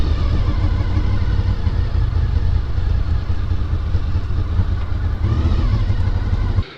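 Honda VFR800fi motorcycle on a fast ride, its engine a loud, steady mid-range drone with wind rush, running continuously before cutting off sharply at the end.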